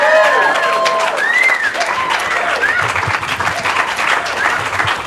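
An audience applauds steadily, with crowd noise and a few whistles throughout.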